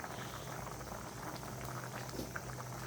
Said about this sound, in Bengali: তো এ পর্যায়ে দেখুন তরকারিটার বলক উঠে এসেছে বা ফুটে গিয়েছে